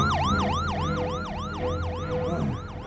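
Police car siren in a wartime drama, a loud close wailing two-tone sweep rising and falling rapidly and steadily, alone with a low engine rumble beneath.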